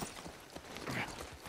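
Rapid clip-clop of horse hooves in The Last of Us Part I remake, steady and rhythmic at moderate distance, with a faint background bed of noise.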